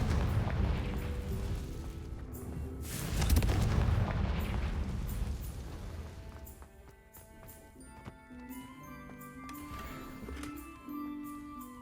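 A Confringo fire spell bursts in the game Hogwarts Legacy, a loud booming blast with rumbling fire that fades into quieter game tones and music.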